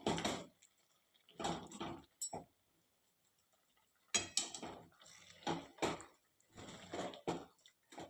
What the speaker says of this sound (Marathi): इथे मी थोडं मॅशरने असं मॅश करून घेते।